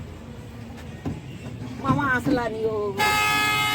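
A passing train sounds a loud, sustained horn toot in the last second, after a stretch of people chatting and shouting over its approaching rumble.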